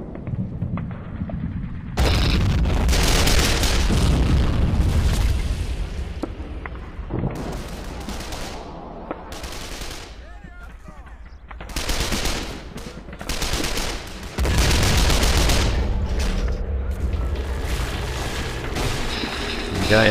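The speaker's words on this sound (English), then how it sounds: "Okay, artillery's providing covering support." Artillery fires covering support in a war video game around Küstrin, heavy booms and bursts of gunfire breaking out in loud clusters, with quieter gaps between the volleys.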